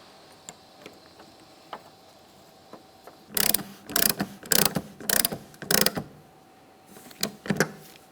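A trim piece and mounting nut are fitted to the rear wiper motor of a 2000-2006 Chevy Tahoe. A few faint clicks lead into quick, close bursts of ratchet clicking, pause, then one more short ratcheting run.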